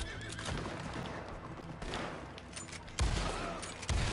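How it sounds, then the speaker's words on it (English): A horse neighs in the video game Red Dead Redemption, its whinny rising over a busy, loud mix of gunfire and game noise, with heavier bursts near the end. "Don't focus on the horse, John."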